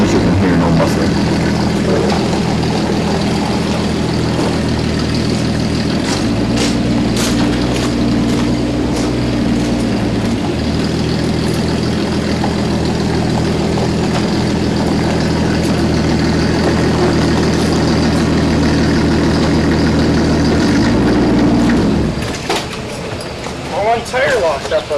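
Close by, an unmuffled truck engine idles with a harsh, loud rumble. Its pitch shifts a couple of times as the revs change, and then it cuts out near the end, leaving quieter background noise and faint voices.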